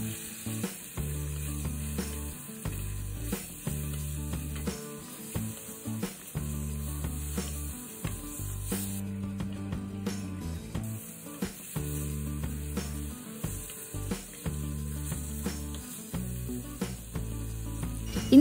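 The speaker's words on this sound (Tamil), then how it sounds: "இதெல்லாம் கொஞ்சம் வதங்கினதும் மஷ்ரூம் சேர்த்துட்டு நல்லா வதக்கி விட்டுறலாம்." Mushrooms sauté with ginger and garlic in oil in a kadai, a soft continuous sizzle running beneath rhythmic background music for the whole stretch.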